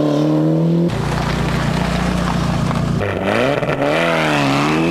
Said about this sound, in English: as the Evolution 2 bumper of the Mitsubishi Lancer disappeared into the distance